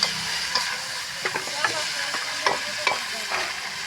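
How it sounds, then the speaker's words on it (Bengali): Vegetables fry fast in a pan at an outdoor picnic, a steady broadband sizzle punctuated by sharp, irregular clicks and scrapes of a spatula stirring, close and fairly loud, with no talking. "এটা একটু ঝটপট করে ভেজে নিব।"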